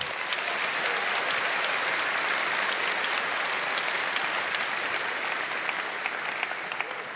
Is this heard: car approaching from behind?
no